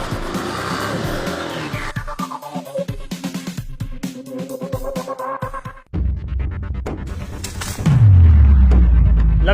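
A motor vehicle races off with revving engine and squealing tyres, loud and close, the pitch climbing through gear changes before a heavy low rumble at the end.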